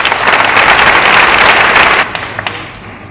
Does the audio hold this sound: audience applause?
yes